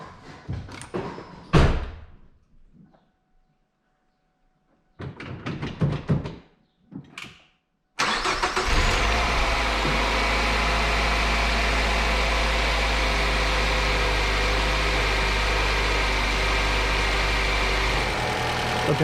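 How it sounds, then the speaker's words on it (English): A Ford Fusion is started after a DIY oil leak repair: a few thumps and clunks, a pause, then the engine cranks and catches and settles into a steady, close idle. "Let's go ahead and fire this up."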